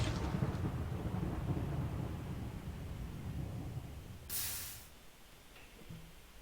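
A lightning strike in a video game sets off a rumbling thunder roll with rain-like hiss, followed near the end by a short bright crackling burst before the noise fades.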